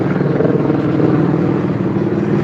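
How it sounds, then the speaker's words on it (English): Steady, loud helicopter rotor and engine drone overhead at the Sea World Gold Coast theme park, continuous throbbing throughout with no talk. "Let's wait for this helicopter to go"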